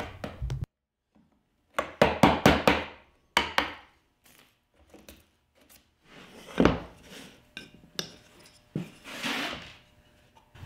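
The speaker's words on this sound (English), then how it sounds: "give it a few light taps, remove some of the material, and once I get a little depth to the cut, then you can hit the chisel a little bit harder" Hammer tapping a chisel into wood while cutting joinery for a wooden piggy bank, close and sharp: clusters of light knocks and harder strikes in bursts, with quiet gaps between.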